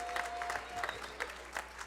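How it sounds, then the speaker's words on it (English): A crowd applauding steadily at a middle school spring concert, a dense patter of clapping from many hands, moderately distant, with a faint voice briefly underneath. "Come on, give a round of applause."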